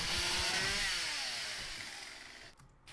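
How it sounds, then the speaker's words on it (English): A chainsaw in the video game 7 Days to Die revs with a raspy, buzzing whine that rises in pitch and then fades out over a few seconds, heard alone. "I'm gonna go in here with our massive, awesome chainsaw"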